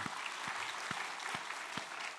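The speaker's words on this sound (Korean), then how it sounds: "하나님께 영광의 박수를 드리겠습니다." Church congregation applause after a prayer during a Sunday service, a steady, fairly quiet wash of many hands clapping with a few louder individual claps standing out.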